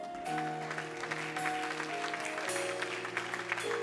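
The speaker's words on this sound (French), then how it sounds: "Acclame Jésus." A church congregation clapping in acclamation during a French-language service, with sustained keyboard or organ chords ringing beneath the dense applause throughout.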